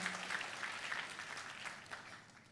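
A church congregation claps enthusiastically during a sermon, producing a continuous, fairly dense patter of many hands at steady moderate volume with no speech heard.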